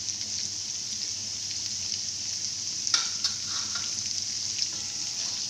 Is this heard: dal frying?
yes